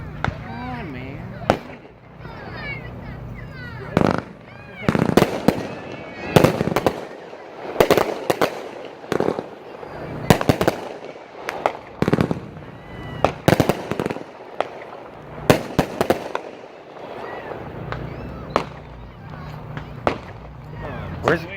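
Consumer fireworks cake firing a rapid series of sharp cracks and pops in irregular bursts for over twenty seconds, fairly close, with people chatting between shots.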